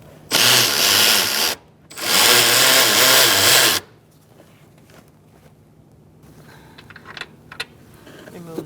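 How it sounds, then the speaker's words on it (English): A 12mm socket on a power tool spins off strut mount nuts on a 2002-2006 Toyota Camry in two loud, close bursts of whirring, followed by quiet clicks and handling noises. "Using a 12mm socket. We're going to take off these 3 nuts."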